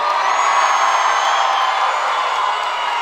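Large convention panel crowd for a Halloween Horror Nights announcement cheering and whooping loudly, a continuous roaring wall of voices holding steady before easing slightly at the end.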